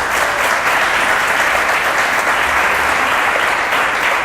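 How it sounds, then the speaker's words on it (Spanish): A large audience at a church gospel convention in Arauca, Colombia applauds Korean brothers, dense sustained clapping that stays loud and even throughout. "démosles un aplauso a mis hermanos"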